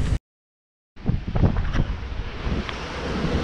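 Strong wind of about 26 knots gusts over a sailboat at sea, a loud rushing roar buffeting the microphone with waves and surf underneath, after a brief cut to silence.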